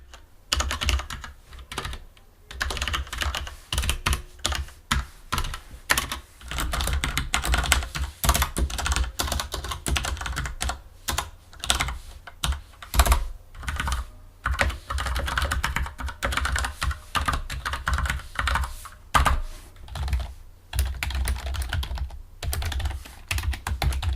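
Fast, continuous typing on a Cherry MX Board 6.0 mechanical keyboard, with dense clicky keystrokes close up and no voices.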